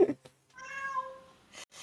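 A cat gives one drawn-out, clear meow close by, between short bumps and handling noises, with no talking over it.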